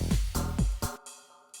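Dense house drop with a ride cymbal placed on the downbeats: thumping kicks and bright washy cymbal hits pulse together in a steady rhythm, then the groove cuts out, leaving a faint ringing tail and one last hit.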